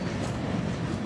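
A model train passes on a railroad layout as a steady, close rumble with a dense rolling texture from start to finish. No one speaks.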